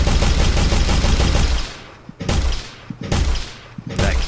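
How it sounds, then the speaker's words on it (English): Rapid gunfire in a Unity or Unreal Engine 4 game engine physics demo, with bullets ricocheting off boxes, comes in loud, dense bursts separated by short pauses. "in this one you just shoot boxes. And you can see the physics are very realistic, so you have essentially ricocheting bullets"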